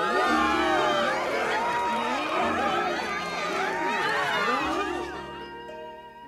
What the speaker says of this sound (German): Das war ein sehr ehrlicher Jubel.